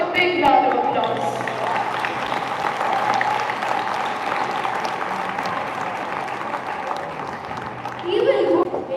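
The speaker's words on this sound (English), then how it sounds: "They deserve a big round of applause." Audience applause fills a school annual day hall after a Mahabharata-themed student stage performance, a steady dense wash of clapping that swells again near the end, with voices and a faint tonal hum mixed in.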